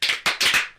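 Several sharp hand claps in quick succession, each a bright slap with a brief tail, close and fairly loud with no talking.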